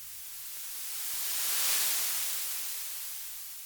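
A white noise sweep for drum and bass swells gradually to a bright hissing peak, then fades back down in a smooth symmetric arc, heard alone.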